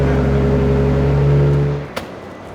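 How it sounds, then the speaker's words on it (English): A Nissan 240 with a tuned RB25 engine and built bottom end idles loud and close in a steady drone, then cuts off abruptly, followed by a single sharp click. "we just got done finished tuning this 240 with a RB25 engine"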